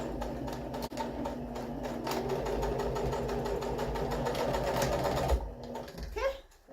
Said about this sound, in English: I'm just going to reinforce this area by stitching it again.